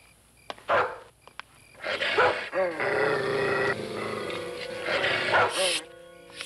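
A dog barks and yips in short repeated bursts at close range, mixed with whimpering, while people talk over and around it in a French television drama.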